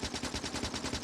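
A submachine gun fires at enemy spawners in the game Factorio, producing a rapid, continuous stream of loud, close gunshots with an even, fast rhythm.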